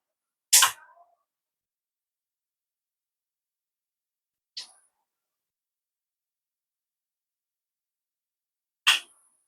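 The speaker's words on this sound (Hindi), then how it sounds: "ये रिले की आवाज़ आई तो ये 15 सेकंड में ऑन हो गया इस जंपर के कारण" A mechanical relay in an electronics repair bench unit, likely a voltage stabilizer switched from manual to automatic, clicks sharply three times, each click isolated and separated by silence.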